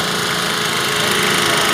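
A Swaraj 855 tractor engine runs loud and close during a tractor tug-of-war contest, with a steady, rough, continuous diesel rumble.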